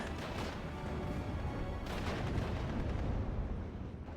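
Gunfire from FG-42s, bolt-action rifles and a Bren gun rattles through a World War II strategy game battle, with dense overlapping shots and heavy thuds forming a steady, fairly quiet roar of combat.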